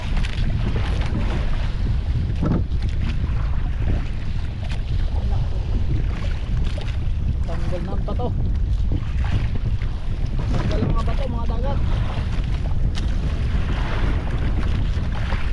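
Strong wind at sea buffets the microphone in a constant low roar, with water and a fishing boat audible beneath it; someone speaks intermittently over the gusts.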